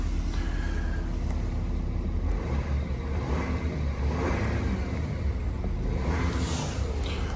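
Audi A8 engine revving while parked, a steady loud rumble with rising and falling revs throughout, no talk over it.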